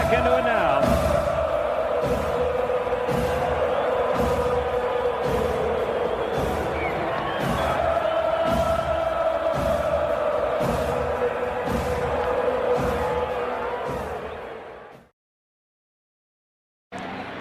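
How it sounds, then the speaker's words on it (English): Baseball stadium crowd at an Atlanta Braves vs White Sox game, a broad steady roar of cheering fans with a regular rhythmic clapping or thumping, then a sudden cut to silence near the end. "This crowd's back into it now."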